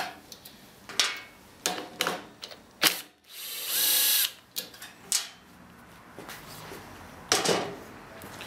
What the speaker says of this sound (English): we're going to take these back screws out